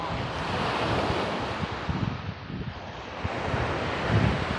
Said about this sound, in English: The sea is very quiet and cold